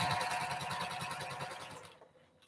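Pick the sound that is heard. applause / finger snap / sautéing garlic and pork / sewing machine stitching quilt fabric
sewing machine stitching quilt fabric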